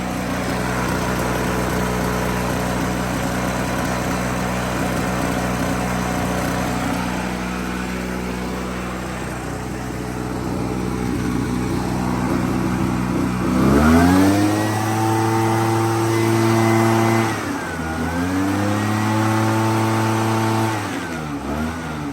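A Stihl BR430 or Echo PB-650 backpack leaf blower with a small recoil starter leak runs loudly nearby, idling steadily before revving up twice into a roaring, wavering whine, with no talking.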